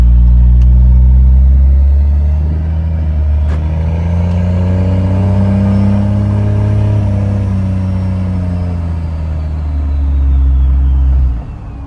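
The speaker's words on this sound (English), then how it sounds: "Best part about driving an S400 swapped Cummins." An S400 turbo swapped Cummins diesel truck engine roars loud and close in a continuous deep rumble, its pitch slowly rising and falling through a long rev before dropping off at the end.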